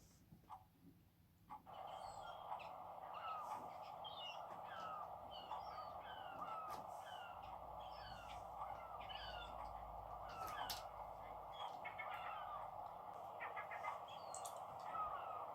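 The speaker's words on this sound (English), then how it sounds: "on a harbour quayside." Harbour quayside soundscape with many birds calling and chirping over a steady wash of ambient noise, the calls scattered and fairly distant, starting after a brief quiet opening.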